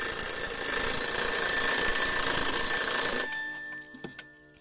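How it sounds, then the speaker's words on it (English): A mechanical alarm clock rings loudly and continuously with a bright metallic bell tone for about three seconds, then cuts off and leaves a brief faint rattle fading into near silence. "I'm gonna demonstrate the alarm on this one"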